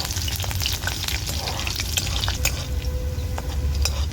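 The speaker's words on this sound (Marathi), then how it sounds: "लसणाच्या पाकळ्या दहा बारा ठेचून घेतल्यात तर त्या मी तेलात आधी घालून घेते" About ten or twelve crushed garlic cloves fry in oil with a continuous close sizzle, broken by occasional stirring scrapes and clicks against the pan. No one speaks.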